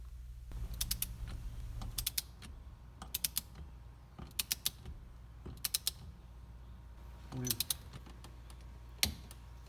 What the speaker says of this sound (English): With our torque wrench set to 25 foot-pounds, it's time to tighten the center bolt down.